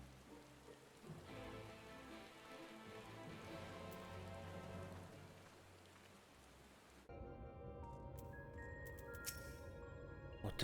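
Steady rain downpour in Final Fantasy XIV, a dense hiss of falling drops that runs throughout, with a sharp shift in tone partway through as the scene changes.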